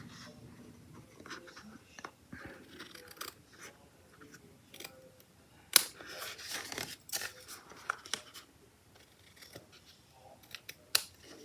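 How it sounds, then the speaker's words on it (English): Scissors snip through excess card material during a papercraft card project, a run of quiet close crisp cuts and rustles with sharper clips around the middle and near the end, with no talk. "now I'll just flip this over and cut away that excess."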